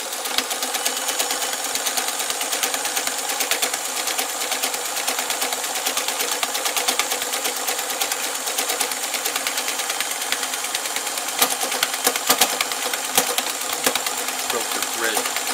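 Sewing machine stitching through pants material (Dickies men's pants), running as a steady continuous whir throughout, with a few louder bursts late on.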